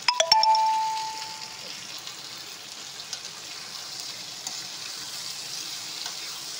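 Tomatoes, cumin, chilli and coriander powder, salt and onion paste frying in a pan: a soft, continuous sizzle, opened by a few sharp metallic taps and a ringing clang of a utensil against the pan.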